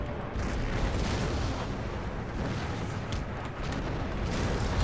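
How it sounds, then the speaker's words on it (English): Artillery and howitzer fire in Empire: Total War during a siege of Moscow, a dense, continuous rumble of booming cannon blasts filling the whole stretch, loud and unbroken. "Hold fire on my artillery and my howitzers, because they're all out of range now."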